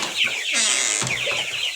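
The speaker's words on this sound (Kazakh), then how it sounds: "Бұл жерде міне қара балапандар" Chickens and young black chicks in a freshly cleaned coop with new hay bedding, Kuchinsky Jubilee and Australorp breeds, give soft overlapping clucks and high peeps close by, with no talk.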